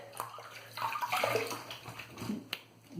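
Water splashing and sloshing as a razor and face are rinsed during a wet shave with badger brush lather, short soft splashes with a sharp drip or tap near the end, fairly quiet and close.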